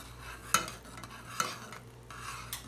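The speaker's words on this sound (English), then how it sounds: "So I'm going to turn off the stove. I'm still stirring." A sticky vegan nut-and-fruit granola mixture bubbles in a pot on the stove as a spoon stirs it, giving soft scraping with three sharp clinks against the pot's side.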